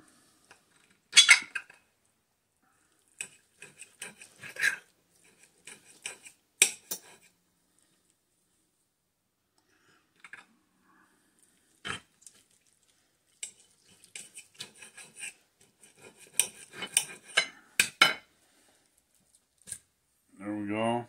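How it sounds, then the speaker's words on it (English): Knife and fork scrape and clink against a plate while cutting chuck steak, with scattered sharp clicks and bursts of sawing at irregular intervals, close and fairly quiet, followed by a short voice at the end. "Trying to cut this shit."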